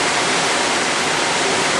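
Rain pours down outdoors in a dense, steady hiss, loud and close, with no other sounds breaking through.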